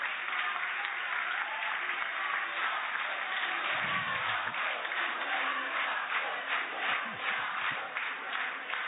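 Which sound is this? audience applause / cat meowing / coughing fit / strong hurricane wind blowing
audience applause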